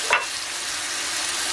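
Two spoonfuls of tomato paste are stirred into a hot pot for a Greek one-pot orzo dish, making a single spoon scrape followed by a steady close sizzle, with no talking.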